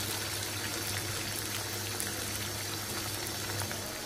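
Beef curry broth for a beef bhuna boils in a pot, making a continuous dense bubbling hiss that stays level and close throughout, with no speech.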